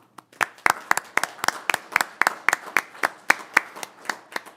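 A few people applauding at a city council meeting, sparse, crisp individual claps in an uneven rhythm, close and clear with no talk over them.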